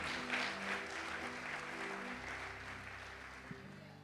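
Congregation applauding in a church, a steady wash of clapping that holds throughout without clear pauses, with a low sustained hum of instruments or amplification underneath.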